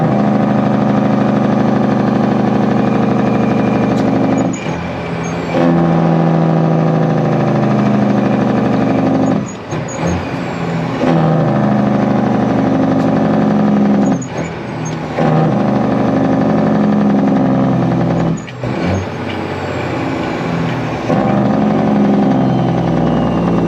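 A truck's engine runs near and loud with its jake brake still engaged, holding the revs up in a steady drone, broken by short dips around 5, 10, 15 and 19 seconds.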